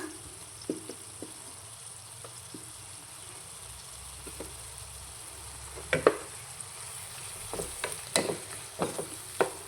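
Tomato pieces frying with onions in a pan for a potato curry, giving a soft, steady sizzle with scattered scrapes and taps of a spoon that grow more frequent toward the end.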